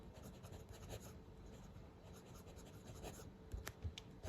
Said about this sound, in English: Let's do the writing sample now with the Wingsung